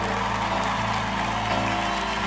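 An audience at a youth church convention applauds as a boy named Luigi walks onto the stage, a thick, continuous wash of clapping and crowd noise that fills the hall evenly from start to finish.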